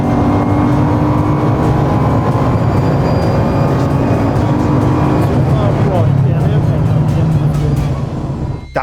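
A 1,600 hp Bugatti under full-throttle acceleration out of a corner on a track, a loud, sustained engine roar with rising harmonic tones close to the listener that keeps going without a break.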